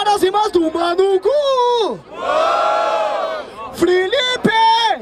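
A crowd at the Batalha da Aldeia freestyle rap battle in Barueri roars and shouts in a loud, sustained swell. A strained, shouting voice calls out before and after the roar.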